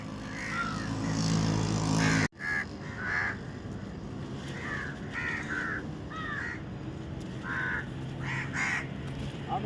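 Crows caw on a road, a series of short harsh calls at moderate distance, some in quick pairs, over a faint steady outdoor background after a brief loud burst.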